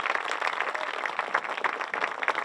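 Parents and students at a public school event clap together in a steady, dense patter of applause that carries on evenly through the brief moment.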